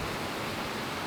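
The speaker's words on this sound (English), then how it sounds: "sorry if it's a bit noisy, there's the river and obviously the wind" Rushing river water and a waterfall mixed with wind in Snowdonia National Park, Wales, a steady broadband roar, close and fairly loud, with no voices.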